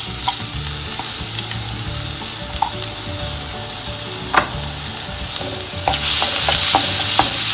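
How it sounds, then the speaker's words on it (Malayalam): Garlic, green chilies and onion sauté in a pan with a little oil for bread Manchurian, giving a steady close sizzle broken by the scrape and clack of a spoon stirring, and the frying grows louder near the end. "3 അല്ലി വെളുത്തുള്ളി, 2 പച്ചമുളക് ഇടുക, നന്നായിട്ട് വഴറ്റുക."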